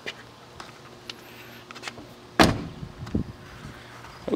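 The door of a 1999 Volvo V70 T5M station wagon thumps shut once in a quiet interior, with a few light clicks and rattles of the panel before and after it.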